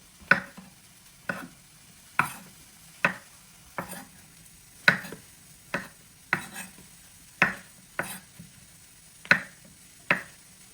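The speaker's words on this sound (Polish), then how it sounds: "Pieczarki kroję na 4." A knife slices mushrooms into quarters on a board in distinct, evenly spaced strokes, about a dozen crisp chops at a steady, unhurried pace.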